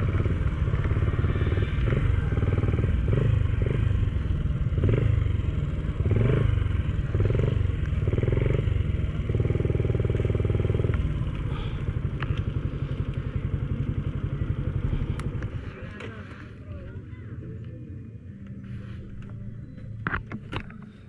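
Honda Cub motorcycle ridden in to park at a muddy camp gathering: a close, loud engine putters with uneven throttle blips and clattering for about fifteen seconds, then cuts to a quieter idle and faint background noise.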